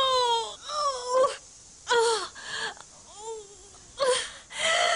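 A woman in labour moans and pants in strained, breathy bursts, with several wavering vocal wails separated by quick gasping breaths, close and loud.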